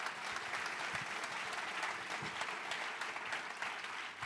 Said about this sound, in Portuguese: Dá uma salva de palmas a Ele.